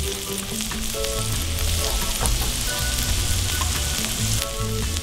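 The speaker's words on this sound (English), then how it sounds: "I'm gonna flip the burger." A cheeseburger patty sizzles and fries loudly in a hot pan, a steady, dense crackle running the whole time with a few soft scraping knocks as it is turned.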